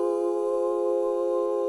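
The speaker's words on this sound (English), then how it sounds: "I also kept a choir sound going." Sustained synthetic choir pad from a pop song production holds one steady chord, smooth and even with no rhythm or attack, alone and without talk.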